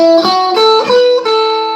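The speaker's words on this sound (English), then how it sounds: "now I am playing major pentatonic scale" A guitar plays a slow melodic run of the major pentatonic scale in sustained, ringing notes with an effected tone, one note flowing into the next, no voices.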